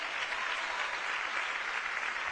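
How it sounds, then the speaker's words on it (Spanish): Audience applauding for a performer at a Pride gala stage show in Melilla, a steady dense clapping that fills the whole stretch without a break. "Un aplauso para Miguel."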